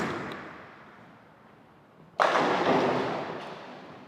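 A bowling ball rolls down the lane with a fading rumble, then hits with a sudden loud crash and a sustained clatter that carries on to the end, no talking.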